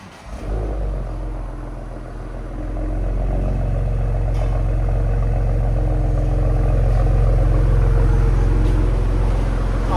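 A 2020-2024 Ford Explorer ST with a 3.0L twin-turbo V6 and 3-inch exhaust idles with a deep, steady rumble, the drone settling and swelling slightly after startup and holding loud and close throughout.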